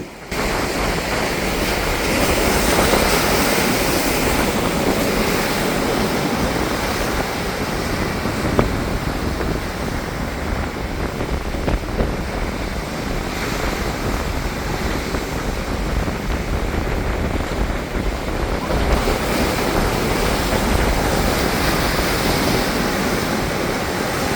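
Ocean waves at Kurumpanai beach near Colachel roll in and break continuously, a loud, dense roar of surf mixed with wind buffeting the microphone, with no voices.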